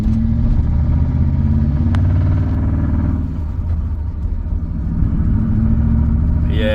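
A BMW E39 M5 engine idles rough and misfires, a loud, uneven lumpy rumble with stumbling pulses and a brief dip midway before the unsteady running picks back up.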